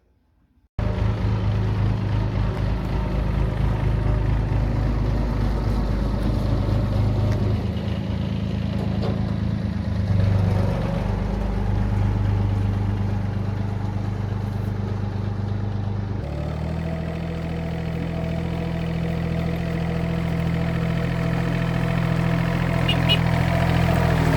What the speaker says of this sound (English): Now we've got the tractor working, which is absolutely brilliant.